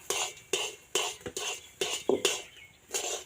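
Semolina stirred in a pan for gujiya sandesh, a spoon scraping in repeated strokes roughly every half second, clinking and scraping close by with no talk.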